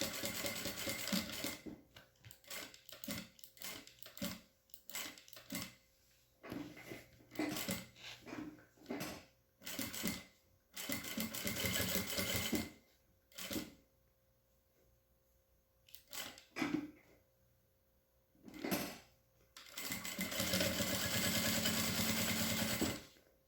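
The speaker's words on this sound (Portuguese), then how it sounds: "eu vou procurar passar o ponto em cima da onde eu já costurei." A sewing machine stitches Montana synthetic leather for a custom-made book cover in short, stop-start bursts of needle rattle, close and fairly quiet, with pauses between runs and a longer run at the end.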